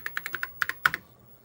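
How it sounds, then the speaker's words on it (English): Typing on an Apple IIe computer keyboard: about ten crisp, close key clacks in a quick uneven rhythm, the last one a louder thunk, then quiet. "I just typed in random"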